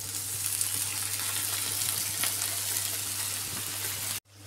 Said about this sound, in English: Now I'm going to add my mince to it.